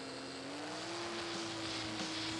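A racing motorcycle at Grattan Raceway holds its revs at the start of an endurance race, giving a loud, close, steady engine drone whose pitch climbs slightly as it is held high.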